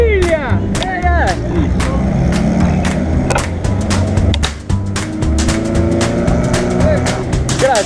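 Race cars of the Mille Miglia open road race in Italy pass by in a loud, continuous stream of engine noise, with rising and falling tones of cars going past and scattered sharp clicks and crowd noise around them.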